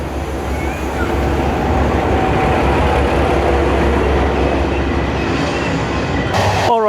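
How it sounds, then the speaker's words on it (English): A steady low rumble of a local train in Morocco arriving on the tracks, with continuous mechanical drone and a faint high squeal near the end. "You can see the train is going to arrive from that area and then come this way"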